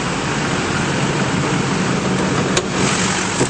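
Steady, broadband engine rumble of a 2005 GMC Sierra 3500 pickup with a 6.6L diesel idling smoothly, constant and fairly loud, with no talking.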